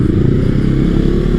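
A motorcycle engine drones loud and close, a continuous low rumble throughout, near a 2020 Yamaha R3 being test-ridden.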